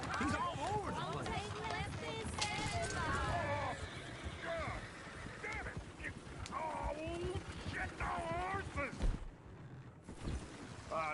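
Horse hooves clip-clopping in a PS4 video game, steady rhythmic clopping beneath a horse's whinnies and almost continuous talking voices.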